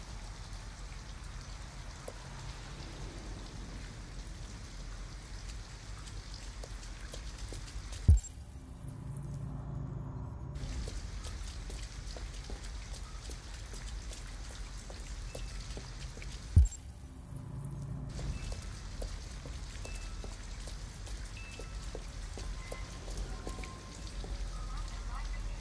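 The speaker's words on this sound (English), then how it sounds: "At least we'd be out of the rain." Rain falls steadily in Detroit: Become Human, a continuous soft patter that drops out briefly twice, each gap opening with a sharp knock.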